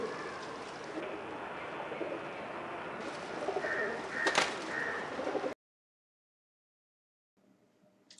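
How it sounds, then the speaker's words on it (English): Pigeons coo on a house rooftop, soft repeated calls over a steady outdoor hum with a brief knock, before the sound drops out to near silence and a faint tail at the end. "many colorful pigeons have taken shelter on our rooftop."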